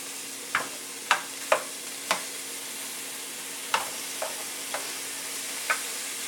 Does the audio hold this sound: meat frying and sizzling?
yes